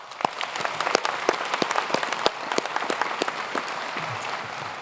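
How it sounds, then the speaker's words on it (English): Graduates at a Massey University graduation ceremony in Manawatū applaud and make noise, with dense, steady clapping from a large hall crowd holding at an even level throughout. "so please make some noise and another round of applause for yourselves"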